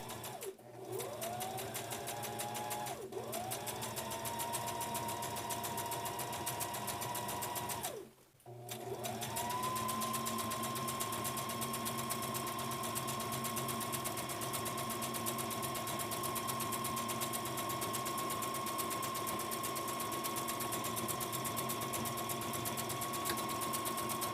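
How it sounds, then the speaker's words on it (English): A sewing machine runs in long, steady bursts while stitching fabric for a reversible face mask, its motor whirring close and loud with two brief pauses, then a sustained stretch. "Be sure to backstitch on both ends to make sure that the sewing is secure."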